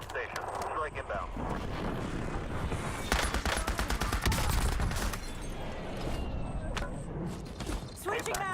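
MP40 submachine gun in a Warzone match fires in rapid automatic bursts, heaviest in the middle, mixed with other gunfire and mechanical clatter while voices talk over the action.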